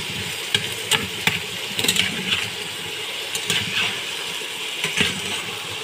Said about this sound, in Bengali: ঝিঙে আলুগুলো অল্প আমি নাড়াচাড়া করে নিলাম ভালোভাবে